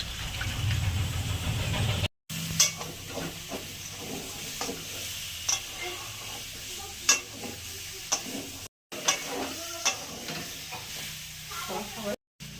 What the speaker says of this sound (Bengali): একটু গরম জল, এই গরম জলটা দেবো।